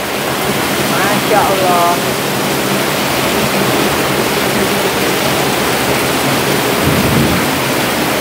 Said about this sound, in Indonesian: hujannya kayak gini